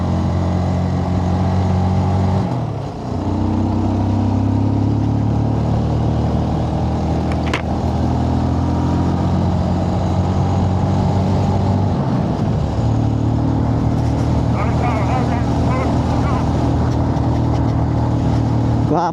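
Motorcycle engine on a group loop ride through hilly mountain roads, a loud, steady close engine drone with a brief dip near the start and small shifts in pitch as it revs, with wind noise throughout.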